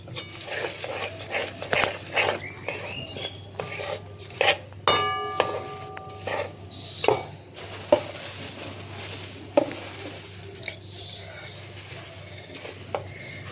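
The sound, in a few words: stirring puffed rice with jaggery in a large wok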